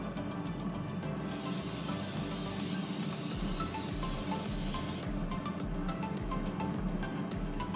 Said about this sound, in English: we're going to spray some extra virgin olive oil